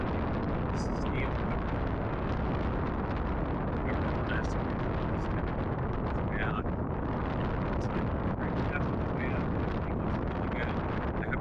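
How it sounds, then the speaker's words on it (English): Strong wind buffets the microphone on a sailboat deck on the open Pacific, a constant loud roar filling the whole clip with no pauses. "It's so windy."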